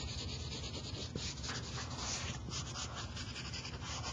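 Colored pencil shades on paper with a soft, continuous scratchy rubbing, close and quiet, a steady texture of strokes without talking.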